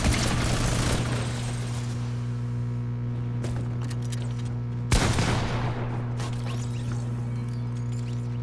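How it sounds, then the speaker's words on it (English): Fortnite gunfire from a minigun: a loud, dense burst of shooting at the start, then a second sharp volley partway through, over a steady low drone with scattered smaller shots in between. "Why did he start shooting at me?"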